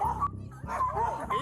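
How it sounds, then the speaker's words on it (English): A dog gives high, wavering whimpers and short yips in quick succession, fairly faint and close by. "Dog's back here."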